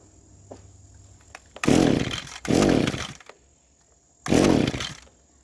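An Echo SRM2100 string trimmer with a flooded engine is pulled three times without starting, each pull a loud, rough, brief burst of cranking and sputtering, with faint clicks between the attempts.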